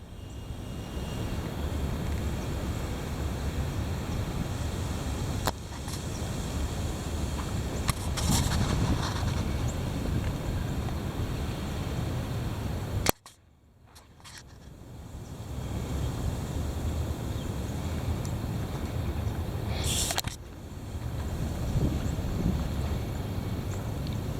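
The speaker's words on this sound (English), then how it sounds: "Here it comes. The heavy wind." Heavy wind blows outdoors as a loud, continuous broadband roar buffeting the microphone, with gusts swelling and easing and one brief sharp dropout midway before the rushing resumes.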